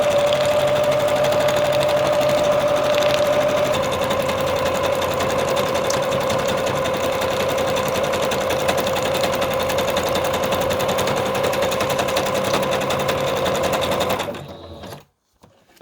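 A sewing machine runs steadily and loudly for about fourteen seconds, stitching fabric collage pieces with darker thread, then stops abruptly, leaving near silence.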